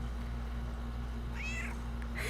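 A cat meows once, a short rising-falling cry near the middle, over a steady low electrical hum with a second faint mew at the very end.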